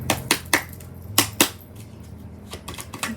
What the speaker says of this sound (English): let me try to like shuffle these cards